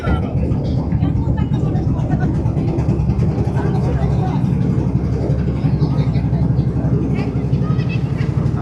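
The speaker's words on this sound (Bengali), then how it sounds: "আর এটা হচ্ছে গিয়ে আমাদের শিপ, ছোট্ট ট্যুরিস্ট বোট।" A small tourist boat's engine runs steadily on a river trip in the Sundarbans, a continuous low droning hum that fills the whole clip with a close, even rumble and constant water noise.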